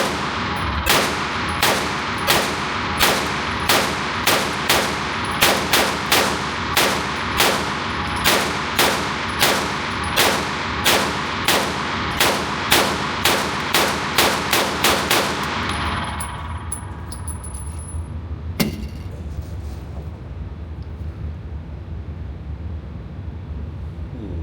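A Bear Creek Arsenal BC9 pistol caliber carbine fired outdoors in a steady, evenly spaced string of loud shots lasting about fifteen seconds, then quieter background with one more sharp report.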